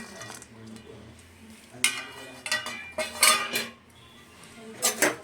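Pan clatter and metal spoon scrapes as black peppercorns and chopped dry coconut are stirred and dry-roasted for masala urad dal powder, with several louder clinking bursts standing out over a quiet background.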